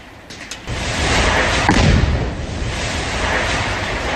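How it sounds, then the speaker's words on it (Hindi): A deep, heavy blast from a house being blown up booms out and rumbles on, leaving a broad roaring wash of noise that slowly settles without fading away. "घर को उड़ाने के बाद जोरदार धमाका हुआ"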